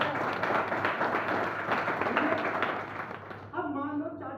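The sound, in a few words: audience clapping for a seminar attendee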